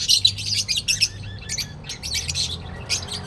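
A young chick being raised at home chirps in rapid, high, close bursts of peeping, one call running into the next across the moment, with no talking.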